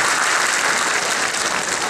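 An audience at a political speech in Delhi breaks into dense, steady applause, a continuous wash of clapping with no voices on top.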